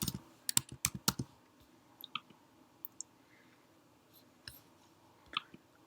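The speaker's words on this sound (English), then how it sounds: "I'll start typing the word average" Someone types on a computer keyboard nearby: irregular bursts of sharp, quiet key clicks with short pauses between them.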